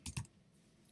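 Two quick keystrokes on a computer keyboard, close and crisp, followed by a quiet room tone.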